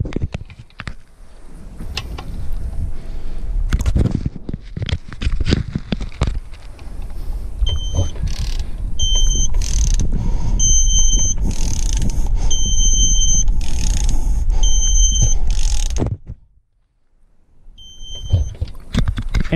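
A torque wrench tightens a bolt on a Subaru water pump until the threads strip, giving steady ratcheting and creaking strain sounds alongside repeated electronic beeps from the wrench, before everything abruptly falls quiet.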